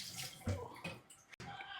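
Water from a tap runs and splashes while fish is rinsed for Nigerian Obolo soup, a close, uneven gush with a couple of heavier splashes and a brief cut before it resumes.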